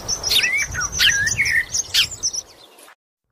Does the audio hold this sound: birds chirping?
yes